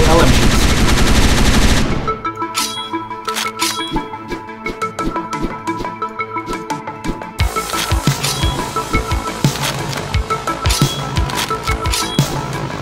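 Light machine gun fire in the game Hotline Miami 2: Wrong Number, loud dense bursts of rapid shots over pounding game music, opening with a heavy wash of noise before the firing settles into a steady rattling stream.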